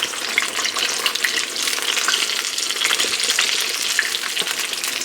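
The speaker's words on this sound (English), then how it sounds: "So I'm using a double spatula just to turn them over." Shrimp kabobs frying in oil in a pan, turned over with a double spatula: a steady, close, bright sizzle and crackle that runs unbroken throughout, with no talking.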